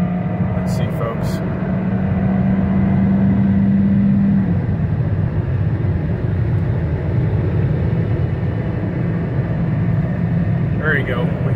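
A Hyundai Tucson at top speed on a Polish Autobahn gives a loud, constant roar of engine, tyres and wind inside the cabin, with someone talking over it and a steady tone fading partway through.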